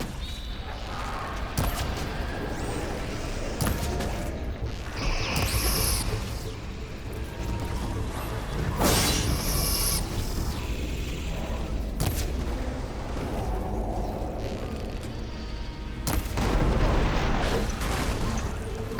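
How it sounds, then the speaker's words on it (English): Heavy booms and blasts roll through combat in Horizon Forbidden West, including a massive explosion, with repeated loud impacts over a constant rumbling din. "God, that was a massive explosion."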